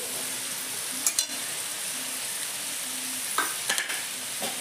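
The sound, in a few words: mushrooms added to frying spiced oil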